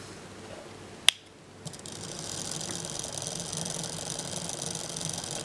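Spiral motor built from Buckyballs and Bucky Cubes, with one sharp click as it starts, then a steady soft mechanical whir and rattle running on alone.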